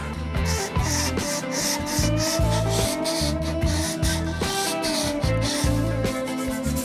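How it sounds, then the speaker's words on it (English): A guitar body's jack plate area being sanded by hand with 240-grit sandpaper, giving steady rhythmic back-and-forth rubbing strokes, close and continuous, with no talking. "This is 240 sandpaper, and I'm just trying to level off this jack plate section because it's hard to scrape."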